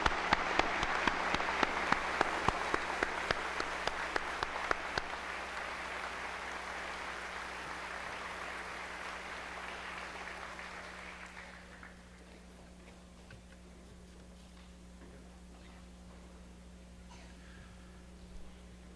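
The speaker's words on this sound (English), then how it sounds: "Would y'all please give them all a big round of applause?" Audience applause fills a high school graduation ceremony, a dense burst of clapping with sharp individual claps that tapers off after about eleven seconds into quieter room tone.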